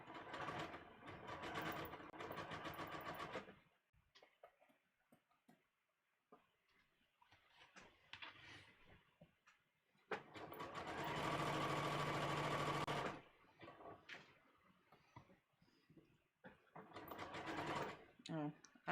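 A home sewing machine runs a triple zigzag stitch to attach a holiday dress sleeve, heard as three close, steady bursts of rapid mechanical needle clatter separated by quieter pauses with small handling noises.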